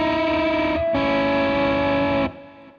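An electric guitar with crunchy overdrive sounds two-string notes, shaken with left-hand finger vibrato. Two sustained chords ring out, briefly cut between them, then fade into a soft tail, loud and without talk.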